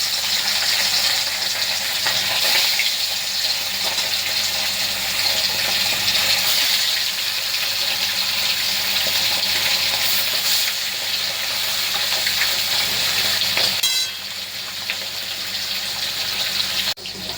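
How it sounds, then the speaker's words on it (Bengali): Steady, dense crackling sizzle of katla fish frying in hot rice bran oil, continuous throughout, with a brief clatter near the end. "তো দেখো, আমার এখানে মাছ ভাজা হচ্ছে।"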